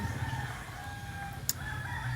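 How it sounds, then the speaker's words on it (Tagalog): A fighting rooster crows nearby, a drawn-out call over a low background hum, fairly quiet overall. "So andito ngayon sa harap ko yung manok. Ayan, pangsabong."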